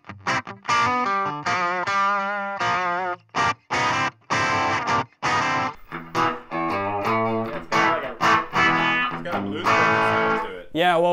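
Epiphone Les Paul Junior electric guitar played through a small amp with the gain turned down low, giving a fairly clean tone with strummed chords and picked notes in a steady, busy rhythm, loud and close.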